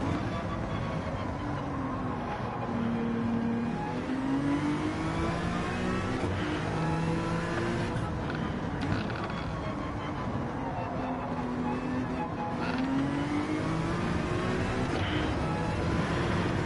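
A Gr3 race car with a swapped Veyron engine in Gran Turismo 7, lapping Fuji in a Toyota Gazoo Racing GT Cup, drones loudly and continuously, its pitch repeatedly sweeping upward through the gears as it accelerates.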